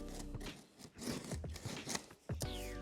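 Packaging of a Hilti SL10 is cut and torn open during an unboxing, with close scraping, snipping and crinkling of cardboard and plastic in quick, uneven bursts.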